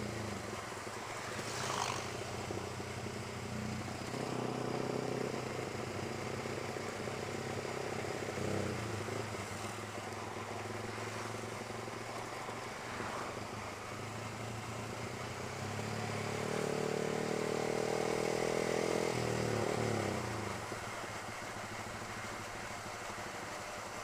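Motorcycle ridden on a road trip in South Aceh toward Meulaboh, Indonesia, its engine droning steadily at close range for the whole stretch, rising in a louder rev midway, with no talking.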